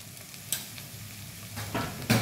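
Fenugreek leaves with turmeric and sugar being sautéed for dal fry, a faint low sizzle broken by a few scraping stirs and soft knocks of a utensil in the pan, near and without talk.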